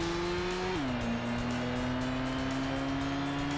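A standard family car in a Tokyo road race video game drones with a steady engine tone that drops in pitch as it shifts, then holds a constant loud hum with no talking.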